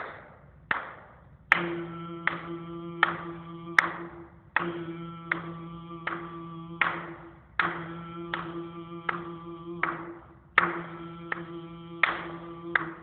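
Sharp claps each followed by a sustained tone held for about three seconds, repeating four times in a slow, even pattern.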